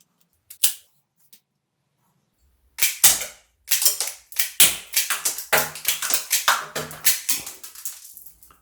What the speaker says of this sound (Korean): 카트리지식 스프링 압축 방식의 중국산 토이건을 준비했는데 한번 쏘아보면요